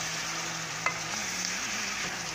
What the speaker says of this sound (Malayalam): എന്നിട്ട് നല്ലോണം ഒന്ന് ഇളക്കി കൊടുക്കണം.